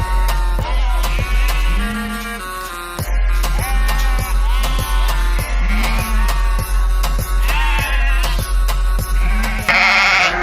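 A ram and ewes in a pen bleat loudly and close over a constant low hum, with several bleats overlapping across the pen.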